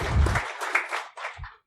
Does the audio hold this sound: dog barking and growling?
no